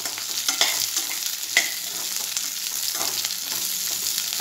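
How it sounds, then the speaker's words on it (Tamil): Bitter gourd stir-fried in a pan sizzles steadily up close, with soft spatula scrapes and a few light knocks against the pan, and no talking. "பாவக்காவை ஆட் பண்ணி நல்ல கலர் சேஞ்ச் ஆற வரைக்கும் ஃப்ரை பண்ணனும்"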